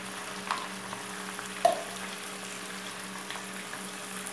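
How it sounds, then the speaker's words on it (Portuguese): Calabresa sausage and bacon frying together with pork ribs for feijoada, a steady soft sizzle with a few light stirring clicks and one brief knock, close and fairly quiet. "A gente vai colocar aqui junto, pra fritar com a costela, a nossa calabresa,"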